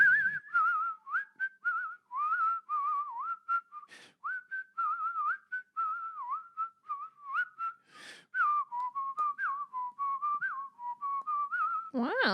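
Someone whistles a melodic tune solo, clear and close, in phrases separated by short breaths.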